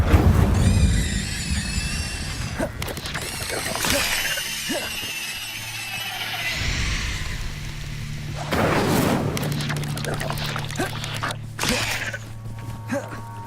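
Incendio fire spell cast in Hogwarts Legacy gameplay, a whooshing burst of flame effects over dense game audio with rumbling booms, creaks and music, loud and continuous, with a voice in the mix.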